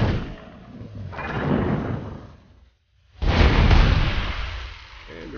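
Fireworks explode in the middle of a Baja Landrush dirt track in the Dirt 2 racing game. Two broad, rumbling bursts are heard, split by a brief silent gap.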